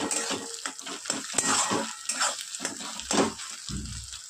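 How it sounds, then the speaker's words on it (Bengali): Two eggs fry in oil with salt, a steady crackling sizzle broken by scraping and clinks of a pan, close and fairly loud with no voices. "দুটো ডিম আমি ভেজে নিচ্ছি, কিছু না, শুধু তেল আর নুন দিয়ে ভেজে আর তুলে নেব।"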